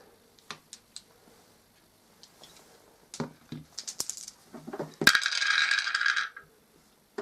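A handful of dice rattle and clatter during an Eldritch Horror board game, with scattered light clicks first, then a close burst of tumbling rolls that settles after a second or so. No one speaks.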